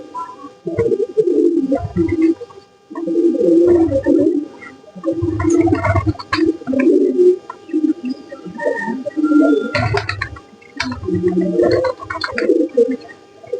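Racer pigeons coo up close in repeated low, throaty gurgling phrases, each burst separated by short pauses, loud and clear over faint background noise.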